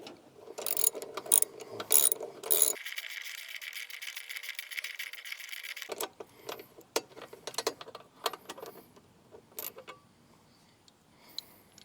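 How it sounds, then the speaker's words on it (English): Socket ratchet with a 5/8 socket working loose a Cub Cadet XT1 Enduro spark plug, quick close clicking bursts, a steady mechanical rasp, then scattered sharp ticks and clicks. "So we're just going to take our 5/8 socket,"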